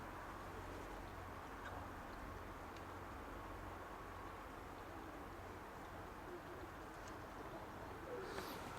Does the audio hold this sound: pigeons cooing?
yes